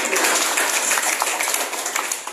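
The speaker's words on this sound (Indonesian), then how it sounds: "Give Jesus a big applause here this morning." A church congregation applauds during a Sunday morning service, with dense sustained clapping from many hands filling the room and gradually thinning toward the end.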